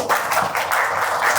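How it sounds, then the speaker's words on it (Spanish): Audience applause fills a university welcome event in Ecuador, steady dense clapping from a crowd, moderately loud and continuous with no voices over it. "Un aplauso, por favor."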